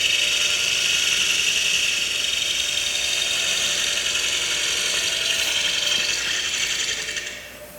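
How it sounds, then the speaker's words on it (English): Shear scraping across a quartersawn white oak platter spinning on a wood lathe, a steady, close, bright hissing scrape that holds evenly for several seconds before easing off at the end. "Shear scrape."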